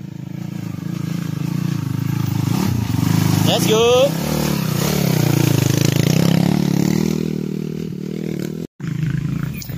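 A dirt bike with a Honda CRF body and an XRM engine revs loudly up close, its engine rising and falling in a continuous rough roar, while someone speaks briefly over it.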